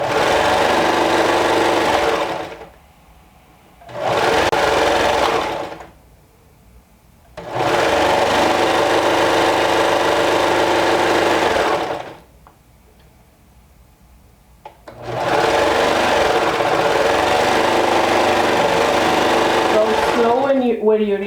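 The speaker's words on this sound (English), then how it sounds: "We're going to stitch all around this long band." A sewing machine stitches a long knit neckband onto a cardigan, running in long steady bursts with fast rhythmic ticking and short pauses between runs, loud and close.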